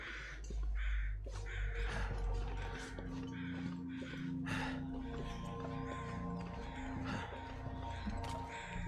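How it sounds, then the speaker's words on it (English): Crows cawing in the survival video game The Long Dark, harsh calls repeating irregularly over a windy outdoor backdrop, moderately close and without talk. "The crows are definitely a different sound now."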